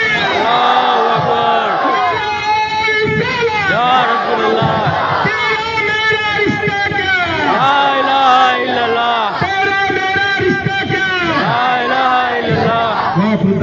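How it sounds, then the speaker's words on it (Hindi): A large crowd at a religious gathering chants the takbir slogan in loud, rhythmic unison, repeated call-and-response shouts that fill the space continuously. "अपने दोनों हाथ उठा के एक नारा लगाए"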